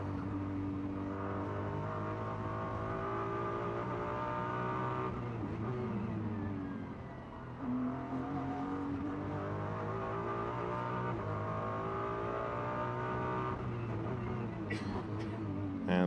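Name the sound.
Ferrari race car engine at Macau Grand Prix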